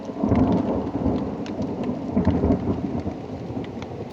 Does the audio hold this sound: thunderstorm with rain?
yes